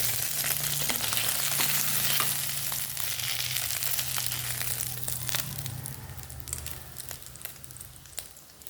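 Beef loaf frying in a pan for breakfast, crackling and sizzling steadily up close, then easing slightly toward the end, with scattered sharp pops.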